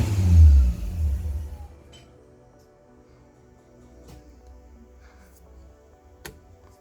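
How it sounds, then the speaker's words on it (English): A 1977 Toyota Celica RA28 engine revs loudly up close at the start, then drops away to near quiet, leaving faint scattered clicks and knocks. "The engine's pretty loud."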